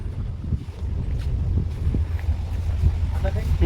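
Strong wind buffets the open deck of a ro-ro ferry on the Ghogha to Hajira crossing, a steady, loud, low roar of gusts against the microphone with engine-like rumble beneath, and no clear voices.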